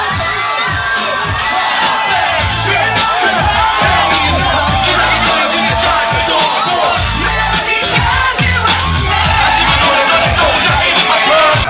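A large crowd of fans cheers loudly and steadily as a hip-hop singer takes the stage at his comeback party. Shouts and whoops ride over a thumping bass beat throughout.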